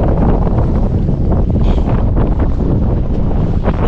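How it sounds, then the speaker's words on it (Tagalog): Strong northeast monsoon wind roars steadily and loudly at sea, buffeting the microphone with a constant heavy rush that never lets up. "Tayo mga kalaot at medyo malakas ang hangin."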